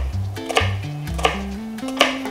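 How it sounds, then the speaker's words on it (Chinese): A knife chopping shallots on a board for a red wine sauce, giving quick, irregular close taps at varying pace, with no talk. "咁我哋將紅葱頭咧全部切碎曬佢"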